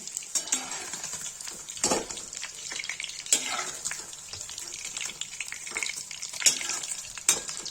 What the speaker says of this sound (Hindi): पनीर फ्राई कर रही हूँ।